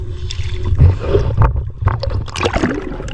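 A small outrigger boat pitches on strong waves at sea, with choppy water slaps, sloshing and gurgling against the hull close by, over a constant engine or wind rumble.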